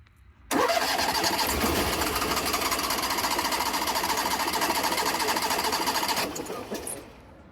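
A Cummins 5500 with a history of not starting fires up abruptly and runs in a loud, even, buzzing drone for about six seconds before shutting down and fading out.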